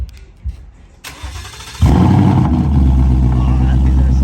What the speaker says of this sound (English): Let's just start it up real quick, see how it sounds.